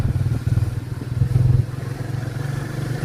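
A motorcycle engine putters steadily nearby, a low rhythmic chugging that swells briefly before settling back to an even idle.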